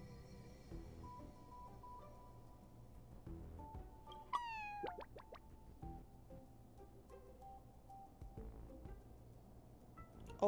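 Cat meows from a Honkai: Star Rail game scene, several short high calls standing out over steady game music and background effects, moderately loud.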